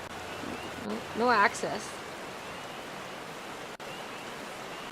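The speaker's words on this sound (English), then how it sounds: "It's raining." Steady rain in Final Fantasy XIV hisses evenly as a constant soft wash, with a brief spoken phrase partway through laid over it.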